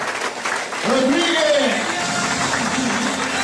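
An audience at a marketing seminar breaks into applause that starts partway through and continues steadily beneath an excited voice shouting a name over it.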